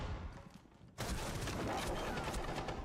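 Gunfire in a Rainbow Six Siege esports match, a quieter muffled stretch suddenly giving way to a loud, dense continuous burst of shots that fills the rest of the moment.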